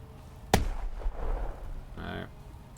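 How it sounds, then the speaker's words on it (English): A single sharp grenade blast in The Troop war game, followed by a brief rumbling tail and a short burst of higher rattling noise a moment later. "let's just keep throwing grenades"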